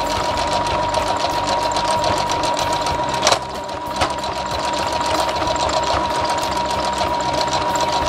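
A sewing machine runs steadily for about eight seconds, stitching fabric wrapped around piping cord for a fabric bowl, with a brief pause near the middle before the motor hum resumes.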